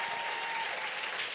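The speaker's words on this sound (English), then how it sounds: "Let's have another round of applause for our amazing" An audience at a museum event applauds a panel of speakers with a dense, steady wash of clapping from a crowd. The applause is moderately loud and stays even across the whole short burst.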